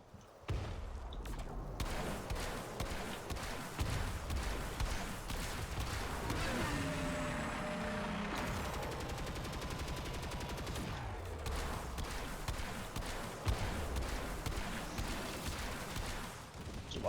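In Warframe, a prism amp fires rapid shots at the Eidolon Teralyst, dense repeated bursts of gunfire that continue almost without a break, loud and busy with crashing impacts under game noise.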